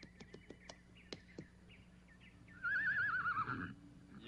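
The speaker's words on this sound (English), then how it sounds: "I think I hear the Prince's horse approaching now." A horse neighs loudly in a long, wavering whinny near the end, after a series of light, sharp clip-clop hoofbeats at the start, with faint bird chirps in the background.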